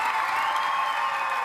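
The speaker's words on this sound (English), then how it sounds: "The kids are roaring." A crowd of children roars with cheering and clapping at a talent show, a dense, bright wash of noise that holds steady and close for a brief moment.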